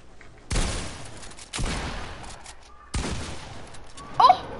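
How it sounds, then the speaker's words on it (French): Bursts of gunfire from a video game, three loud broadband volleys each trailing off, followed by a brief sharper sound near the end, with no talk. "Les deux balles que je t'ai mis!"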